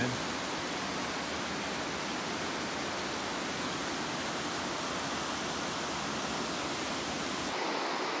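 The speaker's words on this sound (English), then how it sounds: "View from top of Clatskanie Falls. Cool water slide going down." Clatskanie Falls, a waterfall with a water slide, roars as a steady broadband rush of falling water, constant and close with no variation.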